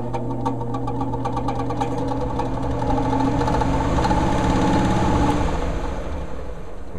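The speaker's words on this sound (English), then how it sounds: "You can tell that the fan just comes on." A furnace fan motor in poor condition, installed upside down, running with a steady low hum and a tight rapid mechanical ticking, fairly close and continuous, with no talking.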